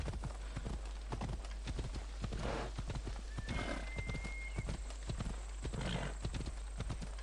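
Steady clip-clop of horse hooves in a quick rhythm in the video game Assassin's Creed Odyssey, with a horse neighing partway through, close and clear over a constant background hum.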